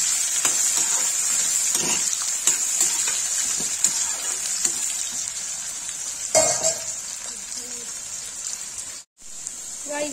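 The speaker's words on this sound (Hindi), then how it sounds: "अब इसे भिंडी डाल देंगे।" Okra hitting hot oil with onions and cumin in a pan, a steady bright sizzle running throughout with occasional stirring scrapes and a brief burst of louder spattering midway.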